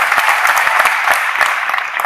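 A dense burst of clapping from a crowd, loud and sustained, with no voices over it.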